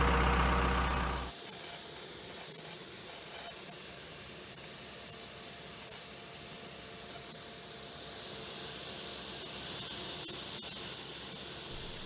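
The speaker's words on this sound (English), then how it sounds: "There's our signal to apply start air so that we can get the engine spinning, the big J57" A loud, steady jet engine roar with a high whine dominates throughout, after a brief burst of rushing start air at the start, as an F-100 Super Sabre's J57 engine starts up.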